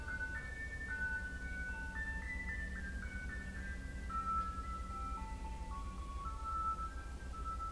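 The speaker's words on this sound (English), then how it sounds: "there's an ice cream truck outside of my house playing Christmas music" An ice cream truck parked outside a house plays Christmas tunes as a steady, tinkly chime melody, the notes stepping along continuously over a low, constant engine rumble.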